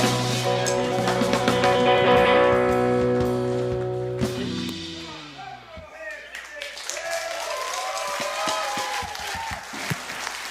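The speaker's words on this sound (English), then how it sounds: "Clap your hands for David James, everybody." A live comedy-show audience applauds and cheers for comedian David James, a broad wash of clapping and whoops rising after music fades, with voices mixed in.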